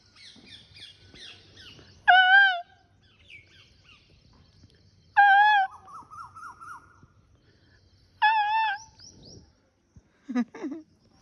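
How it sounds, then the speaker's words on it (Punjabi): A peacock calls loudly three times, each a sharp wailing cry spaced a few seconds apart, with a quieter shorter call near the end and faint birdsong in between. "ਮੋਰ ਮੋਰ ਤੇਰੀ ਵੀਡੀਓ ਬਣਾਉਣੀ ਸੀ"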